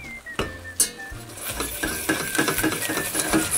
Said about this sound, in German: Das schön glatt rühren.